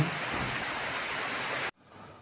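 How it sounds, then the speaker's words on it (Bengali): Steady, dense rain hiss pours down for nearly two seconds, then cuts off abruptly into a much quieter background. "এরপর বৃষ্টি শুরু হয়ে গেল এখন"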